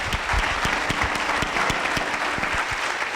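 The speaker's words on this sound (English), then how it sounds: "let's give our panel a very big round of applause." An audience at a stats-to-solutions panel discussion gives the panel a hearty round of applause, with brisk, even clapping throughout and a few soft low thumps underneath.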